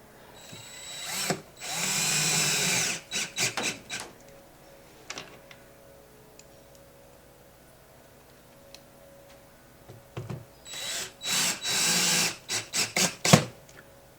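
A cordless drill drives screws back into a Harbor Freight Franklin utility cart, two clusters of short whirring bursts separated by a quiet gap with light handling ticks and clicks.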